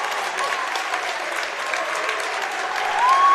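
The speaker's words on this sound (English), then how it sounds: "we're giving him a round of applause" Fans at a high school boys basketball game between Warrenton and Wentzville Holt give sustained applause in a gym, a dense, steady clapping crowd that swells louder near the end.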